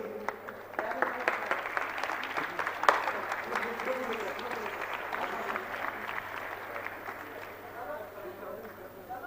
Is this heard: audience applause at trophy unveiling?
yes